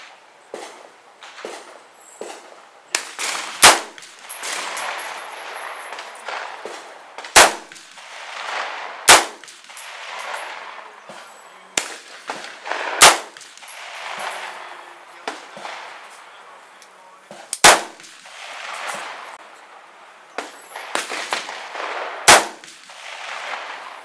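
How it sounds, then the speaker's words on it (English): Rifle shots with hand-loaded ammunition ring out at an outdoor shooting range as sharp, loud single cracks spaced several seconds apart, about eight in all, with quieter background noise and faint shuffling between them. "testing out hand loads and firing for accuracy"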